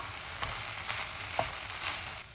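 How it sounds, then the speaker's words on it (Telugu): Rice with capsicum and tomato stirred in a hot pan gives a quiet, steady sizzle with a few soft spoon scrapes at intervals, close and without talking. "సో ఎప్పుడు రైస్ వేసుకోవటమే. కలుపుకుందాం."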